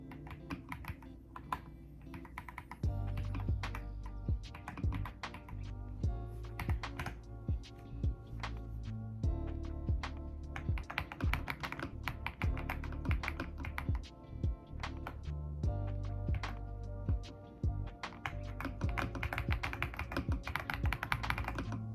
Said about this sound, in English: I've never had like a true mechanical keyboard like this.